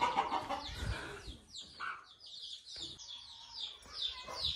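A Kadaknath rooster clucks nearby in short, uneven bursts, with a few sharper squawks between quieter moments.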